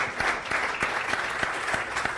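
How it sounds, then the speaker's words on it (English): Fairly quiet applause at a brewing event in honour of a brewery, thinner than a full crowd, with a few distinct sharp claps standing out in a loose rhythm. "big round of applause for Newstead Brewing"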